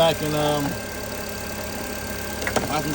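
A Nissan Sentra's 1.8 L engine runs at a steady, moderately loud idle with a faint rattling vibration. A brief clatter of handling noise rises near the end.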